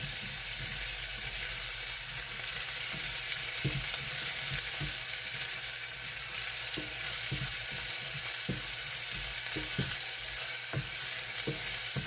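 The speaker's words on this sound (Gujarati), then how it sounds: "એમાં મેં એક અડધી ડુંગળી લીધી છે, તે નાખીશું। તેને બ્રાઉન કલરનો થવા દઈશું।" Half an onion frying in a pan until brown, giving a steady loud sizzle with occasional sharp clicks of stirring against the pan.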